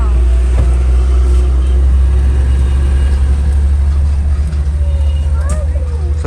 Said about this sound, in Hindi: गाड़ी आगे करो, कीचड़ है बहुत ज्यादा